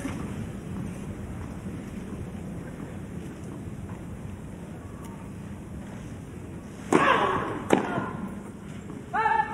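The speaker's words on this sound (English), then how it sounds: "But really struggling in these windy conditions." Steady wind at Wimbledon buffeting the microphone, a constant low rumble with a couple of brief thumps near the end.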